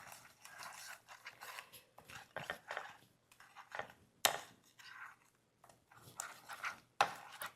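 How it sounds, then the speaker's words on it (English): A spoon stirs a banana popsicle mixture with milk in a bowl, making irregular scraping, clinking strokes that come in short bursts with brief pauses, fairly quiet and close, with no talk. "Now we want to grab our spoon and mix."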